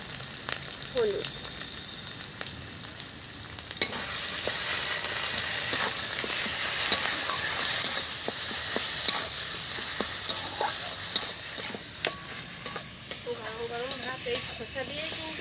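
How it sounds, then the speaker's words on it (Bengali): Ash gourd peel with salt and turmeric fries in a pan, sizzling steadily up close while a utensil scrapes and stirs it in repeated knocks, with brief speech over it. "চাল কুমড়োর খোসাটা কিন্তু আমি ভেজে নিলাম"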